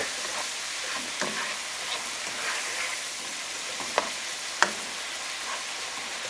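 Onions and garlic frying over a flame for fried cabbage with kielbasa give off a steady, dense sizzle, close up, with a few brief clicks and scrapes and no talking.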